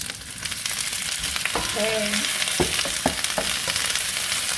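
Ginger and garlic frying in a wok over high heat, a constant crackling sizzle with a few sharp clanks of a utensil stirring against the metal and a brief utensil squeak.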